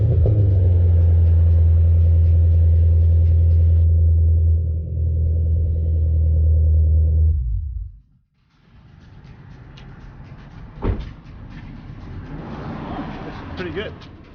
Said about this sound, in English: So I'll turn on the car and try it out.